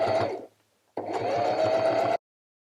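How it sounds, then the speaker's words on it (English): A sewing machine stitching a fabric Easter egg, with a short run of fast steady stitching, a brief pause, then a longer even burst that stops abruptly. "Now I'm going to sew all the way around the egg on the trace line."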